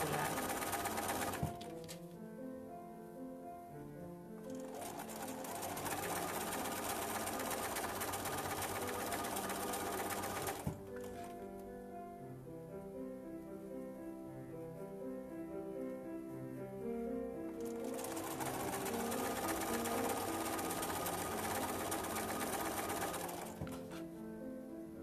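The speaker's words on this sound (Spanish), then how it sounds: "voy a coser en cadena, que quiere decir que no voy a levantar el pie ni a cortar el hilo" A sewing machine chain-pieces quilt blocks at a quarter-inch seam, running in long steady stretches of rapid mechanical stitching with brief pauses between pieces.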